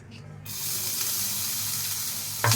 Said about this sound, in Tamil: எண்ணெயில் போட்டுட்டு லைட்டாக வந்து ஃப்ரை பண்ணிக்கலாம்